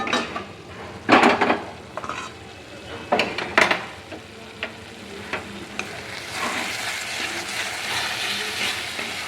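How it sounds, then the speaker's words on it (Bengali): Spice paste frying for a paneer dish, stirred in a pan with loud scraping and clattering utensil strokes over a continuous sizzle that swells louder toward the end. "মশলাটা ভালো করে ভাজা হয়ে গেছে।"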